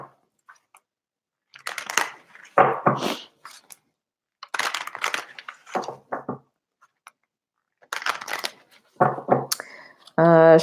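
Oracle cards from a Sekhmet deck being shuffled and drawn, heard as several close bursts of riffling and flicking separated by silences, ending with a sharper buzzing sound.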